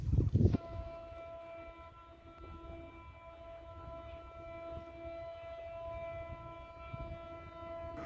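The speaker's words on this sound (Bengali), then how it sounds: "রাজশাহীগামী টুঙ্গিপাড়া এক্সপ্রেস এই মুহূর্তে রাজশাহী অভিমুখে ছুটে যাচ্ছে" The Tungipara Express, a passenger train hauled by a locomotive, sounds a long steady horn with sustained tonal notes after a brief burst of loud rumble, while the train's running noise continues underneath.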